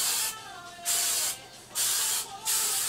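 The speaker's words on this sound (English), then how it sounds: "Now, you're going to be using a lot of hairspray for this." Three bursts of hairspray hiss from an aerosol can, each lasting about half a second, with short pauses between them, close and fairly loud.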